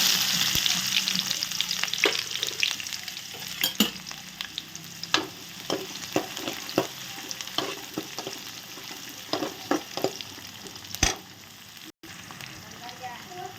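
Cumin seeds, mustard seeds and onions frying in hot oil in a pan, an even close sizzle punctuated by frequent sharp pops and spatters, with a brief dropout near the end.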